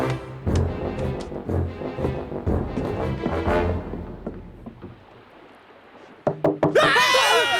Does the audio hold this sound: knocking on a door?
yes